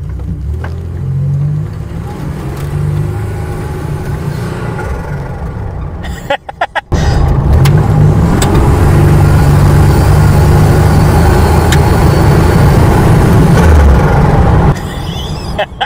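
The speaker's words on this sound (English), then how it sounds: "It gets to 10 pounds of boost, and then it just starts cutting out." A turbocharged car engine that cuts out under boost at about 10 psi: a loud, sustained droning rev, then an abrupt stutter and dropout midway before the roar resumes, close up and dominating throughout.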